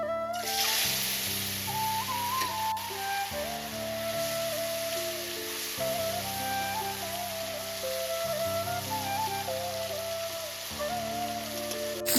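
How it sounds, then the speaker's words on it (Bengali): Marinated fish sizzling and frying in hot mustard oil, a steady dense crackle of spitting oil that stays even throughout without a break. "তেল গরম হয়ে গেছে এবার ম্যারিনেট করা মাছগুলো সব ভেজে নেবো"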